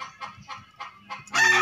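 Gamefowl chickens from a winning line cluck in a series of short bursts, then one bird breaks into a loud, harmonic crow near the end, with no talking.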